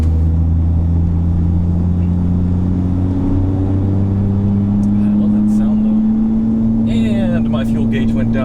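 Toyota Supra JZA80 sports car engine running loud and steady at close range, its low drone rising in pitch partway through as revs build, with a voice talking briefly over it near the end.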